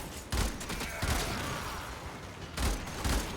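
Bursts of player weapon gunfire in the video game Warframe, several loud rapid volleys with a short lull between them and a heavier burst near the end.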